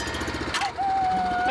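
A repaired power tiller engine, fixed as a favour for a neighbour on a farm, chugs in a steady, rapid rhythm of low, close thumps, with a sustained tone rising over it partway through.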